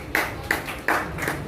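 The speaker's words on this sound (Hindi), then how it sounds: "गलत जगह ताली बजा रहे हैं" An audience at a Hindi literature talk gives a few short, sharp bursts of clapping, three or four quick groups of claps close together, fairly loud, with no speech over them.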